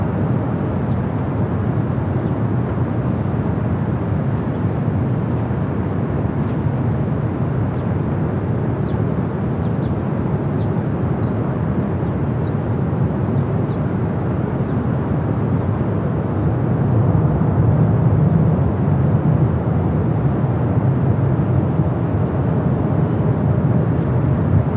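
Airliner taking off from the north side at Los Angeles LAX, Philippine flight to Manila, a loud sustained jet roar with wind buffeting that swells slightly toward the end, continuous throughout.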